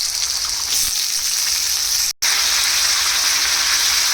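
Loud, continuous sizzling of potato slices frying in hot oil with tempering, close up, with a brief cutout midway before the crackling hiss resumes.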